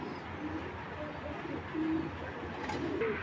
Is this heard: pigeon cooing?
yes